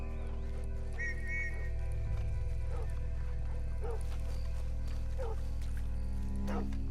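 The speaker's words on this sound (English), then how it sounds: "Ah, they got dogs." Dogs in Red Dead Redemption 2 give short, distant barks and yips over a steady low game ambience and droning music, spaced irregularly through the scene.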